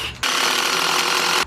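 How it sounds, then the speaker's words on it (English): A power drill drives a screw into pressure-treated lumber for a raised garden bed, one loud, steady whirring burst of just over a second that cuts off sharply, with no talk. "I'm going to lay it down to screw on the bottom pieces"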